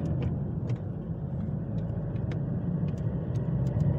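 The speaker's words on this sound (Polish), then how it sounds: "ogólnie auto przyspiesza przyzwoicie" An American-market Honda car accelerates with a low, even engine rumble heard from inside the cabin, soft and steady, with faint clicks and ticks above it.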